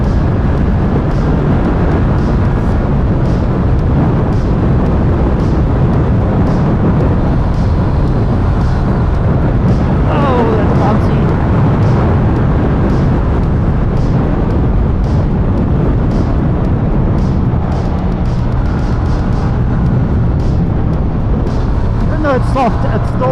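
A 2017 Yamaha MT-07 motorcycle engine roars steadily during uphill wheelie attempts, loud and continuous with rising and falling revs, heavy wind rush, and scattered speech over it.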